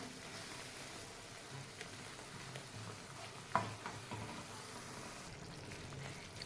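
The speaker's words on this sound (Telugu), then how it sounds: "లో ఫ్లేమ్ మీదనే కలుపుతూ ఉండాలి దగ్గర పడే వరకు" A coconut sweet mixture for coconut laddus cooks in a pan on a low flame, giving a soft, steady sizzle with gentle stirring and one small clack of the spoon, faint and without talk.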